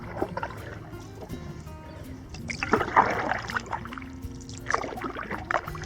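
Canoe paddle strokes dipping and splashing on a lake during a solo Boundary Waters trip, with soft trickles and drips in a quiet outdoor setting, close by and moderate in level.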